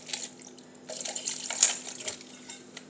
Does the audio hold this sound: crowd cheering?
no